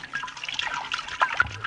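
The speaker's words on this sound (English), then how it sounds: "Here, I'll pour you out a tablespoon." Liquid pours in a thin, irregular trickle with small splashes and drips, fairly faint and close, as a tablespoon of medicine is poured out, with no talking.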